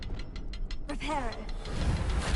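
A Reparo repair spell in a Harry Potter game sets off a whirring, ratcheting magical effect of clicking, gear-like mechanisms with rising shimmery tones, close and steady, after a few light taps.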